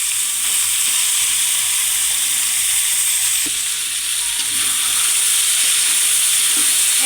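Gochi fish and potatoes fry in a pan of hot oil in a village kitchen, giving a loud, continuous, dense sizzle that crackles evenly throughout with no speech.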